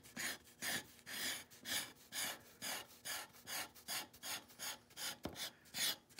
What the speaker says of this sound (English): Chisel being used as a scraper.